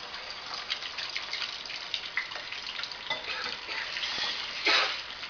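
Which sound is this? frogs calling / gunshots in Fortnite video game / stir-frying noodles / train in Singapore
stir-frying noodles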